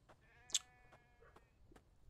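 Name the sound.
sheep bleating in the video game The Infected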